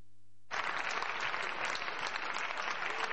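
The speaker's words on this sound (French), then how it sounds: "Des applaudissements nourris saluent le vote de la résolution" After a half-second of near silence, loud sustained applause suddenly breaks out in the Brussels Parliament chamber following a vote, many hands clapping together and holding steady to the end.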